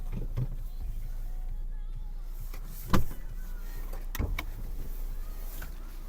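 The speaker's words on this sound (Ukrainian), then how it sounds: "склопідйомники працюють" Power windows in a Ford Fusion 1.4 run with a faint motor hum inside the car, punctuated by a couple of sharp thumps as the glass stops.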